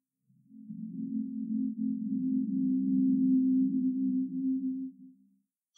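Amazon Echo Plus smart speaker plays its factory reset chime, a steady low electronic tone held for about five seconds before fading out, clear and alone with no talking.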